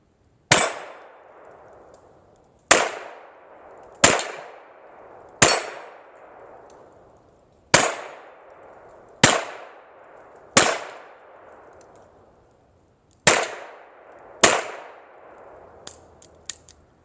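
Nine sharp, loud shots from a Taurus nine-shot .22 revolver, fired one at a time at uneven intervals with a brief ringing decay after each, alone without talking.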